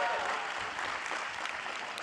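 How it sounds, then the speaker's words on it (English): An audience at esports split finals applauds in a dense, continuous burst of clapping and crowd noise that stays steady throughout. "round of applause for Berserker, everybody, as well."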